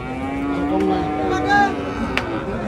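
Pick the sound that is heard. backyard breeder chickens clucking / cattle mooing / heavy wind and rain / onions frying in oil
cattle mooing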